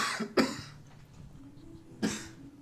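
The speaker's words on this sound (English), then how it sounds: "Why are we coughing?" Two short, sharp human coughs, close and fairly loud, separated by a brief pause with a quieter throat sound earlier, heard alone without talk.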